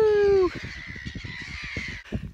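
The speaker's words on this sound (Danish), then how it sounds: "Masser af fugle!" Crows caw repeatedly near a hilltop lookout on Nexelø, a string of rough calls overlapping in an uneven rhythm, fairly close, after a brief louder tonal sound at the start.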